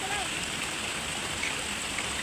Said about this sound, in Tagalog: Mahina ang agos ng tubig dito